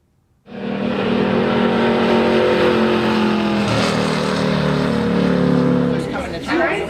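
A NASCAR race car at the Walt Disney World Speedway roars steadily at close range, its engine loud and sustained from start to finish, with speech faintly present underneath.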